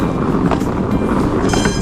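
A train rumbles steadily and loudly near Don Bosco, a dense continuous roar with faint clattering and no voices.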